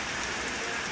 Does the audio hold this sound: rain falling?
yes